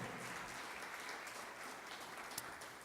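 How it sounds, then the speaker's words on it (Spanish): Sustained applause from an audience at a live religious gathering, a dense, steady wash of clapping that carries on without a break throughout. "denle un fuerte aplauso porque Jesús ha resucitado"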